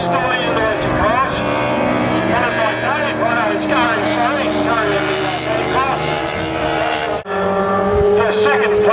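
Racing cars tear along the sand at Vazon Bay sand racing, with loud, close, high-revving engines whose pitch rises and falls in overlapping sweeps, and talk sounding over the roar.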